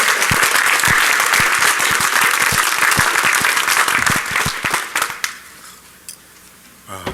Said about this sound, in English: we'll all give them a round of applause ourselves because they were great to work with